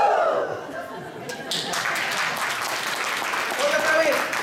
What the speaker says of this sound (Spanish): ¡Aplausos para los que vengan!